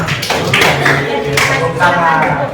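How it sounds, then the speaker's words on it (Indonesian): Short burst of group applause for a presenter in a classroom teaching session, steady dense clapping from a nearby audience. "kita beri tepuk tangan dulu untuk Mbak Asmi"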